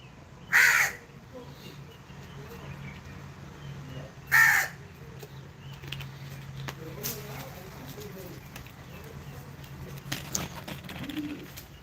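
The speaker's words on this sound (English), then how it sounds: "I don't know what's going on with this bird." A crow caws loudly twice, well spaced apart, over a quiet background with a low steady hum and faint scattered outdoor sounds.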